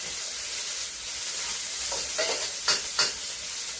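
Shrimp and asparagus stir-fry in a wok for a Hong Kong-style Cantonese dish, giving a loud, steady close-up sizzle with a couple of brief scraping stirs near the end and no voices.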